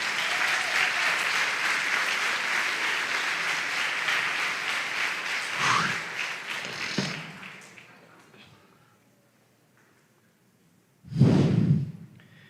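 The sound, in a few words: congregation applauding in church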